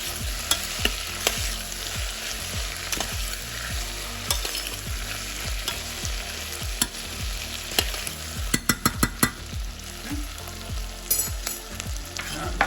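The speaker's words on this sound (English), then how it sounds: "Okay, I'm going to give that a stir, and that should start becoming quite fragrant now." Cumin seeds and bay leaves frying in a pot for a Cypriot turlu stew are stirred with a steady run of rhythmic scraping strokes over a constant sizzle, close and fairly loud with no voices.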